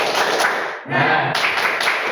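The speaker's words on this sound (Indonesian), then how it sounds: "Oke, tepuk. Ayo. Tepuk semangat." A school class claps in unison for a rhythmic spirit cheer, a dense burst of many hands with a brief break partway through, loud and close.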